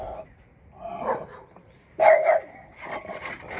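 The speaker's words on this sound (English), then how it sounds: "And now he's gonna go bark at the neighbors." A dog barks outdoors at the neighbors, giving several sharp, fairly close barks and yips in irregular bursts.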